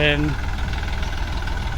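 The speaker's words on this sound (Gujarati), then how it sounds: "આમ રિવેસ લઈએ છે ટ્રેક્ટર ટ્રેક્ટર રિવેસ લઈ લઈએ" A tractor reversing on a village farm plot runs with a steady, close, low engine rumble, and a short voice is heard at the very start.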